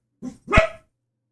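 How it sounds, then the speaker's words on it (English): A dog barks twice close by, a short soft yap followed by a louder, deeper bark, then silence. "No barking."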